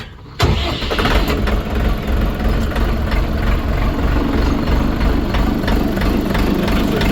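A machine engine cranks with a key and catches abruptly, then settles into a loud, steady, close idle with a rough, knocking mechanical rumble.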